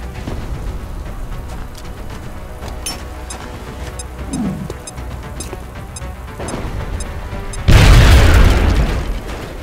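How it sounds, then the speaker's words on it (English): A grenade blast in the XCOM video game hits as one loud, close, broadband boom near the end, rising sharply above a busy bed of game ambience and scattered clicks. "Now toss your grenade at the enemy in front of you"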